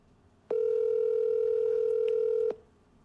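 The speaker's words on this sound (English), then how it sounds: "I'm not going to leave a voicemail, but we will call you twice, Miss Hannah." A single steady telephone tone sounds for about two seconds on an outgoing call, starting and stopping abruptly against a quiet background.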